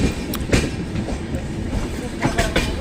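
A train runs along the Puri railway line near Khordha with a steady, loud rumble broken by repeated wheel clacks; no one speaks over it.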